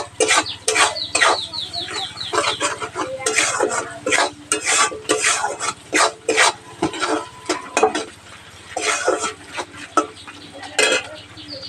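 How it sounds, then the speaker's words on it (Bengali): Onion, garlic and prawns fry in oil while a utensil scrapes and stirs briskly against the pan, giving repeated loud scraping strokes over a constant sizzle, with faint background sounds. "পেঁয়াজ রসুন চিংড়ি মাছ বেশ খানিকক্ষণ ধরে আমি এরকম করে ভেজে নেব।"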